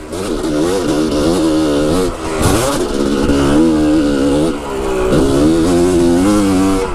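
A Yamaha YZ dirt bike fitted with a Lectron carburetor revs loudly and close by, its engine climbing and falling in repeated throttle blips with a harsh, buzzing two-stroke whine.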